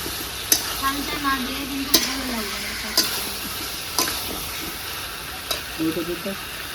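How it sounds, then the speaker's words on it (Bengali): Taro pieces sautéing with cumin in a pan for a Bengali ghonto: a steady close sizzle broken by sharp spatula scrapes and taps about once a second, with a faint voice murmuring underneath at times. "4-5 মিনিট কচুগুলো কষিয়ে নেবো ভালো করে জিরির সঙ্গে"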